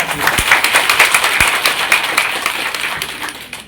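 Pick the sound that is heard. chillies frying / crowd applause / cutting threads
crowd applause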